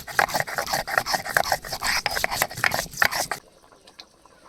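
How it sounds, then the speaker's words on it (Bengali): Garam masala is ground on a grinding stone with steady, rhythmic scraping strokes that rasp loudly for about three seconds, then stop abruptly, leaving near silence. "গরম মশলা বেটে নেব"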